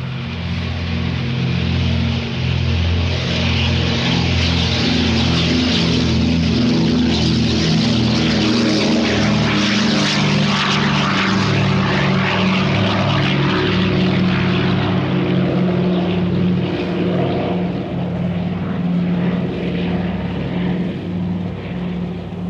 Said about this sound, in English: we can hear a DC-3 with its Stratt & Whitney engines taking off past the microphone into the distance